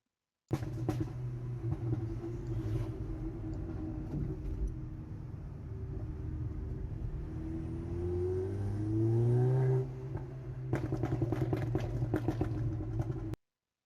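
A car fitted with an ECM Titanium crackle map and a stainless exhaust line runs with a steady engine drone, then revs higher, followed by a rapid cluster of sharp pops and crackles near the end, heard close and without speech.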